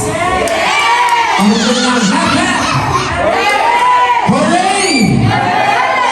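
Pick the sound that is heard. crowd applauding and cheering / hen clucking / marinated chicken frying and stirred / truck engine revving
crowd applauding and cheering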